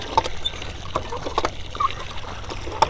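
Water from a continuous source on a small farm raising chickens, turkeys, quail, sheep and tilapia trickles and dribbles softly nearby, with faint splashes and a few sharper drips breaking an otherwise quiet, steady flow.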